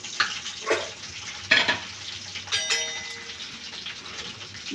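Cumin seeds hit hot oil in a pan with bursts of crackling sizzle, a few sharp surges settling into a steady close frying hiss.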